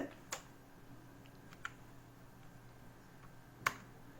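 A few sharp, isolated clicks of computer keys being typed and a final keypress for enter, faint and sparse against a quiet room hum.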